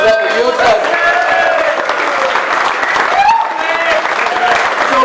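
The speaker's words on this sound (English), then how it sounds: "can you give yourselves a round of applause for all the good work that you've done?" Crowd applause at a football supporters' society fans party, dense, loud clapping filling the room with cheers and whoops mixed in throughout.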